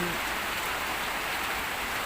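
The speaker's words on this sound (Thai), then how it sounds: "ช่วงนี้ฝนตก" Heavy rain pours down in a dense, unbroken hiss, loud and constant throughout, with no other sounds standing out.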